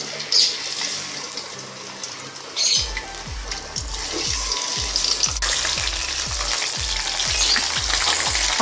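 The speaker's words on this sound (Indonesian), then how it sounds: "Pertama-tama ikan digoreng" Mackerel coated in a seasoning mix for fried fish sizzles steadily in hot oil, a loud, dense crackle throughout, with a series of low thumps partway through.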